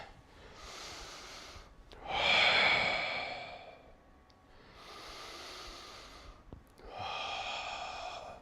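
Slow, deep breathing during a groin stretch in a stretching routine: three long, loud breaths close to the microphone, each a drawn-out airy exhale, the second the strongest, with short quiet gaps between.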